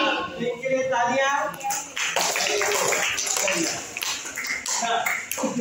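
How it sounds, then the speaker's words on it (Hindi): Students clap for a classmate in a Hindi lesson, a brief burst of close, mixed handclaps running a few seconds amid voices and classroom noise. "हाँ, इनके लिए तालियां।"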